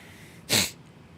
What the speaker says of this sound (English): One sec, I have to sneeze.